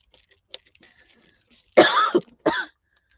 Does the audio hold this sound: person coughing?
yes